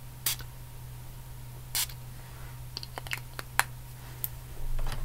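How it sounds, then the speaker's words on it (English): Perfume spritzed from a spray bottle during a makeup and hair session, giving a few short, soft hissing bursts spaced apart against a quiet room hum, with no talking. "I'm gonna spray some of this on you because it is so good."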